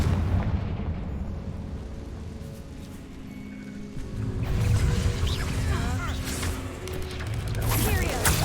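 A Confringo blasting spell detonates in Hogwarts Legacy, a loud rumbling blast that swells midway with crackling, scattering debris over a low, steady background drone.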